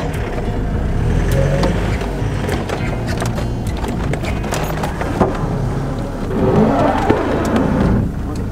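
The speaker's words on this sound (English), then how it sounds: "That was the noise of the spring rubbing against the tire," Coil spring on an off-road vehicle rubbing against the tire while driving a rough track in the Australian bush, a continuous grinding scrape over loud engine and rolling noise, with a few sharper knocks toward the end.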